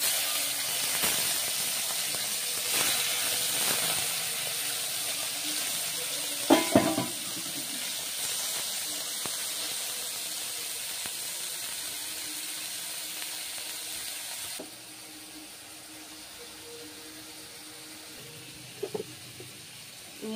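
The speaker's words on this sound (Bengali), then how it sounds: "আর এই চিংড়ি মাছগুলোকে আমি ভেজে নিচ্ছি।" Shrimp marinated in salt and turmeric fry in hot oil in a kadai wok, giving a steady close sizzle and hiss with a few brief clatters. It quietens somewhat in the last stretch.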